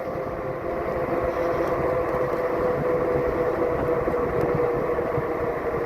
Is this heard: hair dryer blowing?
no